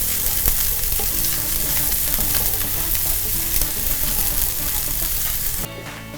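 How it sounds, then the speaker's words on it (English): Onions frying in a hot pan, a dense, loud, continuous sizzle with crackling and stirring noises close up, no speech, dropping off abruptly near the end. "Cook the onions for about 5 minutes until they are nice and soft."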